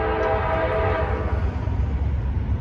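A westbound Norfolk Southern intermodal freight train with mixed Norfolk Southern and BNSF locomotives rolls past at close range, a steady loud rumble of wheels and cars with a faint horn-like tone early on and no talking.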